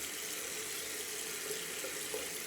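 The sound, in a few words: rinsing a shaving brush under tap water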